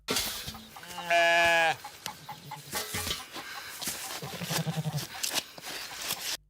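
Farm animals in a livestock pen give out a loud, sustained bleat with strong harmonics, followed later by a lower, shorter bleat, amid scattered barnyard noises and clucks.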